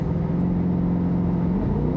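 A 2020 Corvette C8 in sport mode gives off a deep, steady engine rumble from inside the cabin, moderately loud with a slight pitch dip near the end and no talking over it.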